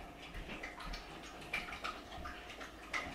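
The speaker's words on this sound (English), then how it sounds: "That's my dog drinking out of her water bowl, by the way." A dog laps water from its bowl indoors, giving soft, quiet, irregular wet splashes and drips with a few sharper slurps, no voices.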